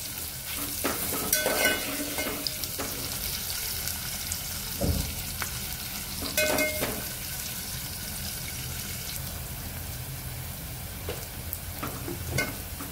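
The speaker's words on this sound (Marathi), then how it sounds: "कांदा लालसर होईपर्यंत परतून घ्यायचा" Onion sautéing in a pan for biryani, a steady soft sizzle with intermittent scraping stirs and utensil knocks, moderately quiet and close, no voices.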